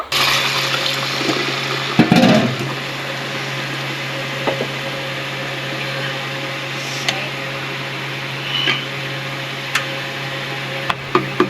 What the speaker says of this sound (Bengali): মশলা কষানোর জন্য পানি দিয়ে দিল